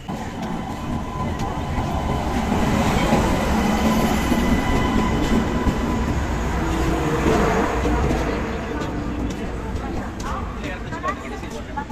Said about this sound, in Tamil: ட்ரெயின் வந்துட்டுருக்கு